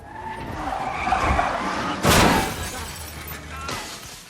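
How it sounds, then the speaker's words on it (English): A car flames out and spins into a streetlight, tires skidding briefly before a sudden loud crash with shattering debris near the middle, followed by a fading rumble. "his car flames out, sending him spiraling into a streetlight, totaling his vehicle"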